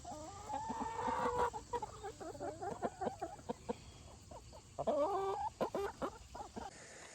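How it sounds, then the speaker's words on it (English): ISA Brown chickens cluck and peck in a farm pen, with busy overlapping clucks and short calls in irregular bursts, fairly close, alone with no talk. "now the chickens are pecking at what's left over"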